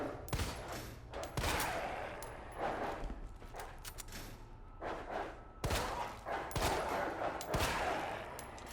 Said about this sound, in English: Three shots usually takes them out.